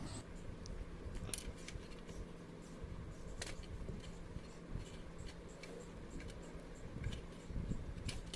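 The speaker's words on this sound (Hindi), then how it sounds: "नाप के काट लेना है।" Electrical wire being cut to measured length with cutters while wiring an 8-module switch board, giving faint, sparse clicks and snips over a quiet background.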